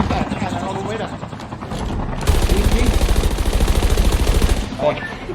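Rapid bursts of automatic gunfire rattle loudly and continuously for a few seconds while voices talk over the shooting in Thai, during a Call of Duty: Mobile battle royale match.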